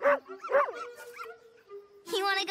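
Several short dog yips and whimpering barks, close and fairly loud, spaced irregularly with a soft tone between them.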